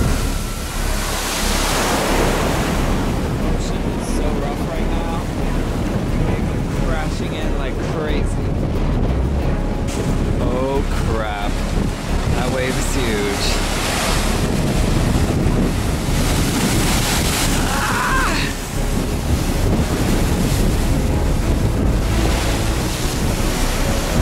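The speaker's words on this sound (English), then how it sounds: "the blowhole and luckily it is shooting up huge" Loud, constant roar of crashing ocean surf and gusting wind at the Nakalele Blowhole, with bursts of surging water spouting up huge over the churning waves.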